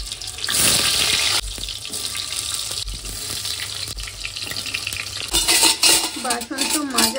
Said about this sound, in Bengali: আজকে পটল ভাজা করছি